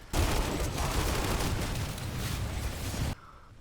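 Fierce burst of automatic weapon fire from a new TR faction gun in a video game, a dense, loud continuous volley lasting about three seconds before cutting off abruptly.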